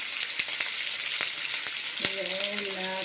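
Oil-coated potatoes dropped into hot oil with curry leaves, a bright continuous sizzle with sharp pops and crackles, loud and close, growing busier near the end as more pieces go in.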